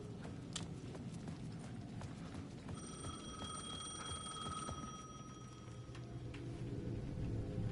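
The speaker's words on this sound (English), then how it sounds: "The payphone at the edge of the plaza was ringing again." A payphone at the edge of a plaza rings in the Alan Wake 2 game world, a steady bright electronic ring sustained for several seconds over a dense, noisy ambient bed with clopping rhythmic sounds.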